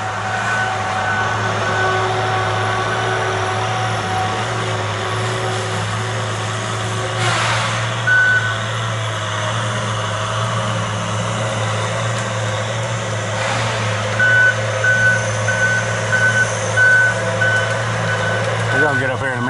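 Log skidder and machinery at a logging site on a farm, a steady low engine drone with intermittent reversing beeps, with people talking over it.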